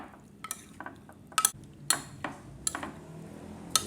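A spoon stirs hot pepper into food in a bowl, giving scattered sharp clinks and taps against the bowl over quiet background, irregular and close.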